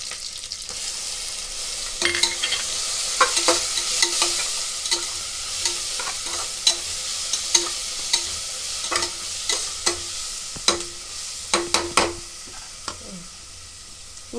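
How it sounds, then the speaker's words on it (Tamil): Vegetables and green chillies sautéing in a pan for vegetable rice, a steady sizzle broken by frequent scraping stirs and clinks of a spatula, close and fairly loud with no talking. "இன்னும் நல்லா வதங்கட்டும். பச்சை மிளகாய் போட்டுக்கலாம்."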